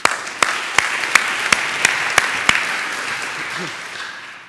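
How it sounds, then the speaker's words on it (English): Brief audience applause before the last lightning talk of an evening session: a dense round of clapping with several sharp, regularly spaced claps up front, then tapering off over a few seconds. "Quick applause, please."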